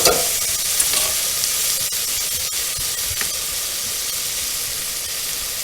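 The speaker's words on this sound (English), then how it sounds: "I'm not going to let this cook too long because garlic, when you cook with it, tends to get a little bitter if you overcook it." Minced garlic sautéing in a hot pan, a steady close sizzle and hiss with occasional light stirring scrapes, no talk.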